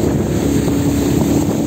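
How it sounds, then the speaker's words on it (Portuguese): Motorboat ride on a Brazilian waterway, a steady loud engine drone with rushing water and wind buffeting the microphone, continuous and without talk. "Estamos voltando agora de lancha."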